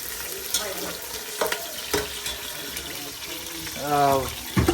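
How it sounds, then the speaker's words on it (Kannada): Onion, kasuri methi and fennel fry in oil for mutton biryani, a constant sizzle broken by spoon scrapes and clatter, with a brief voice near the end. "ಎಣ್ಣೆ, ಆನಿಯನ್, ಕಸ್ತೂರಿ ಮೇಥಿ, ಸೋಂಪು ಎಲ್ಲ ಹಾಕಿ ಇವಾಗ ನೀಟು ಹುರಿಬೇಕು."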